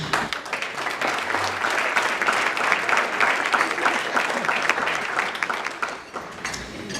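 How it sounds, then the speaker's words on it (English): An audience at an Administrator of the Year awards ceremony gives sustained applause: dense, even clapping from many people throughout, easing slightly near the end. "Please give them another round of applause."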